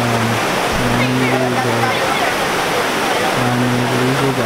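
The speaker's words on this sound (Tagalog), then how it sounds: "Ayan yung ilog nila." A Philippine river flowing steadily near a highway, a broad continuous rush of water with people bathing in it, while a voice talks intermittently over the flow.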